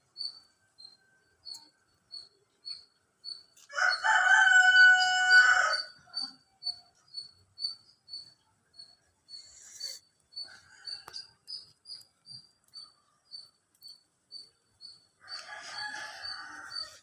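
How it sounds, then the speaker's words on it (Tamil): Domestic chickens at a home, a rooster crowing loudly twice amid quieter clucks, against a steady series of faint high repeated chirps. "எங்கள் வீட்டு கோழிலாம் பாருங்கள்."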